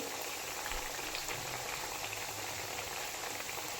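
Kothimbir vadi pieces shallow-fry in oil until crisp, a soft, even bubbling sizzle throughout with a few low knocks, fairly quiet and without speech.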